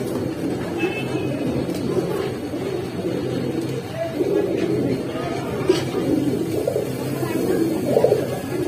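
Pangkhi pigeons coo softly and continuously at a pigeon sale, a low murmuring burble steady under background noise with no clear talk.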